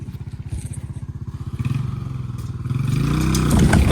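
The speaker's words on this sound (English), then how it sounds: "we're using the four-wheeler, tying that, and then we're basically just gonna surf that" Four-wheeler ATV engine running steadily with a rapid pulsing putter, then revving higher as it strains to drag old tree house boards, loud and close with faint clatter.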